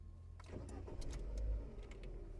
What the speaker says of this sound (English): And I started the car